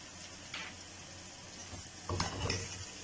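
Cumin seeds and garlic sizzle steadily in oil with a low crackling hiss, joined by a brief stirring scrape and a louder burst of sizzle near the end.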